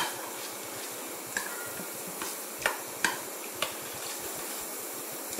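Carrot onion raita with chillies and coriander being stirred and mixed in a bowl, soft scraping with a few sharper clinks of the spoon against the side, fairly quiet and close with no talking.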